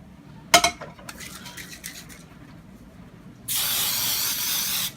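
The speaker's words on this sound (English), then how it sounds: "I'm going to spray it down with baking spray that has" A can of baking spray with flour hisses steadily into a baking pan for over a second, close and loud, after a sharp clink and light rattling of the pan.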